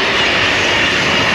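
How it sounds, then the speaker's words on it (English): A train passes close by, a loud, steady, broadband rumble and roar that fills the whole stretch with no talking over it. "train passing by."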